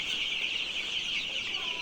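Colour Bat chickens in a littered poultry shed cluck in a steady, busy chorus at moderate loudness, a continuous murmur of many birds with no talk.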